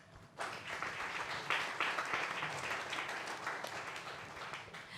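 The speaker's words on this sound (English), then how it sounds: "Let's give all our 9 groups of startup a round of applause" An audience at a startup innovation forum pitching session applauds the nine startup groups, a dense, steady wash of clapping starting abruptly and holding at moderate level throughout.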